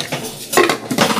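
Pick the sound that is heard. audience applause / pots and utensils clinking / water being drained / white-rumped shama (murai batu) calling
pots and utensils clinking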